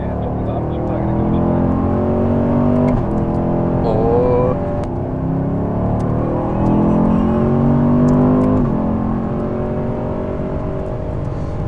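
A Chevrolet Camaro V8 sports car accelerates hard, its engine note rising through two revving sweeps with a gear change between, loud and close, while people talk over it.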